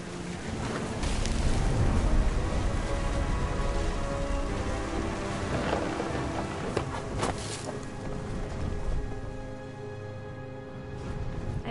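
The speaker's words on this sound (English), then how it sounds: "The thunder sounded much too close and full of angry power." Steady heavy rain with a rumbling low wash from a thunderstorm in the video game What Remains of Edith Finch. It plays as a dense, continuous roar with no voices.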